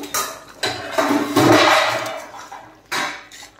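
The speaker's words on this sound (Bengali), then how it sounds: "ঢাকনা উঠিয়ে এখন দেখে নেব।" Metal clatter as the lid is lifted off a simmering pot of fish head curry with potato and pumpkin, a few loud scraping clanks close by.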